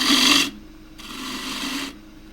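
A lathe tool with a long bevel of about 45 degrees cuts into a spinning camphor laurel wood plate, making two close, loud, rasping hiss passes with a brief pause between them.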